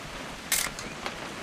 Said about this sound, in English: Just want to get a shot of you, Dawn